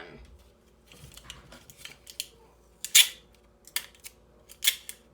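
Tape is pulled and pressed down to hold a curling ribbon flat, giving a series of short sharp rips and crinkles up close, scattered over a quiet background.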